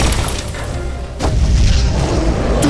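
A weapon firing in a French science-fiction audio drama, a heavy booming blast that breaks across a rumbling backdrop, loud and close, followed by a sustained roar.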